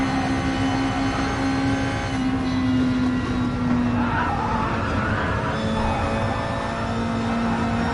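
Nissan Group 2 race cars lap Willow Springs in a racing video game, a steady close engine drone running throughout with tire skidding and squeal layered over it, no voices.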